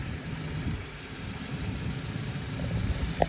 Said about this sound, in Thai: เครื่องยนต์ก็เดินเรียบนิ่งเงียบเลย